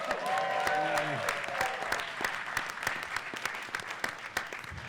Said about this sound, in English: And you earned the applause.